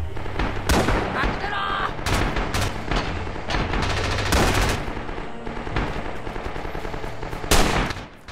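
Gunfire in the video game Rising Storm: several loud, sharp shots and short automatic bursts crack out at irregular intervals against a rumbling battlefield background.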